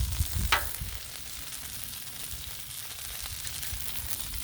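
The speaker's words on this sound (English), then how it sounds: "Bacon grease, eggs." Eggs fry in bacon grease on a Blackstone griddle, giving a soft, steady sizzle and crackle with a brief scrape near the start, faint and without talking.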